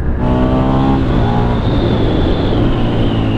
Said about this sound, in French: Ouais, ça accélère fort.